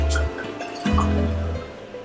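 Rémy cognac poured from a bottle into a glass, a short gurgling, trickling stream of liquid that changes pitch as the glass fills, close and clear with no talking.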